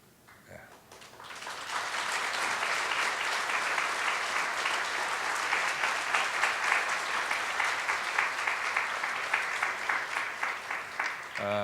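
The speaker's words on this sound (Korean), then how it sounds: "여러분들 큰 박수로 환영해 주시기 바랍니다" A large church congregation breaks into sustained applause that swells quickly and holds steady, with many hands clapping together indoors.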